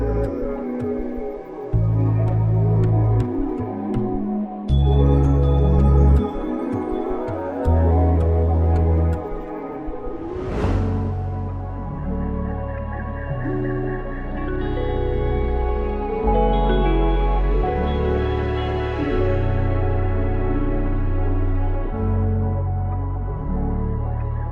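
A produced synth music sample built on a soft sustained pad from a Sequential Prophet Rev2 supporting a deep bass, with layered melodic parts playing steadily throughout at full volume.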